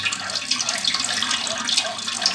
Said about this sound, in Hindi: जग के साथ हम पानी डाल रहे हैं इसके अंदर